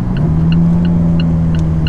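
An Alfa Romeo 4C lightweight sports car engine pulling in dynamic mode, heard from inside as a steady loud hum with a sustained drone and no talking.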